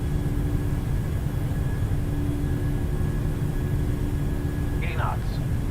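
Jet engines of a PMDG 737-800 at takeoff thrust in Microsoft Flight Simulator produce a steady, loud broadband roar with a faint constant whine, unbroken for the whole stretch.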